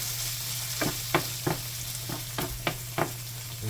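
Shrimp sizzling in a hot pan for an empanada filling, a steady frying crackle broken by regular sharp clacks of a utensil stirring against the pan.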